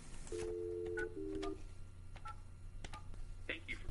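Telephone keypad tones dial iPage phone support: two longer dual-tone beeps, then a quick series of shorter key presses over a low background hum.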